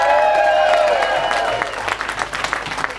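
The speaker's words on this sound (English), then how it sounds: "give yourselves a massive round of applause" Audience at HymerFest 2017, a motorhome owners' gathering, breaks into a loud burst of clapping that thins into scattered claps within a few seconds, with crowd murmur underneath.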